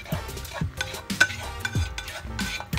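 Ingredients for pork pochero sauté in a pan, a close sizzle broken by repeated stirring strokes and scrapes of a utensil in a steady rhythm, with no talking.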